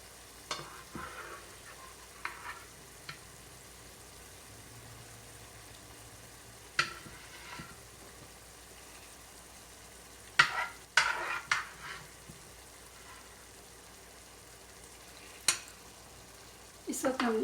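Fish fries in masala in a pan over a low flame, a soft continuous sizzle broken by occasional sharp clatters and knocks as pieces are placed in, with no talking.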